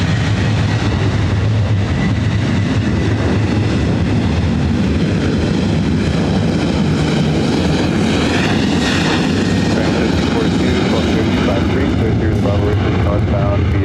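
A Delta airliner roars loud and close as it takes off from runway 24 right at LAX, its engine noise steady and broad throughout, with radio voices faintly under it.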